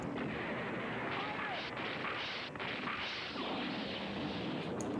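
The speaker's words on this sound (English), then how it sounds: "Space bazooka." A space bazooka fires in a Saturday sci-fi anime, a dense, continuous roar of blasting and crashing impacts that fills the whole stretch at steady loudness, with voices mixed into the din.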